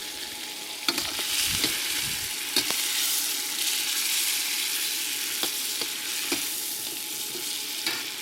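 Chicken wings sizzle in a hot pan with sweet bean sauce and cooking sherry, a steady bright hiss broken by several clinks and scrapes from stirring, no voices heard.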